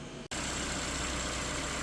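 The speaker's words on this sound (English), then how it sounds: "So this is how the vehicle looks running. As you guys can see, engine's very stable." A 2015 Ford Fiesta's 1.6-litre engine starts and settles into a steady, even idle, a close, constant hum after a brief cutoff at the start.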